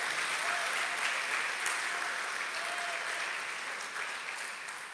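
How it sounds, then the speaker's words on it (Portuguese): A church congregation gives a steady round of applause for Jesus during an apostle's sermon, a continuous even wash of many hands clapping at moderate distance, holding level for the whole stretch and easing slightly at the end. "Vamos dar uma salva de palmas para Jesus"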